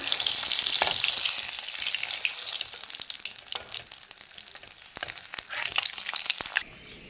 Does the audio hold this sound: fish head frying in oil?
yes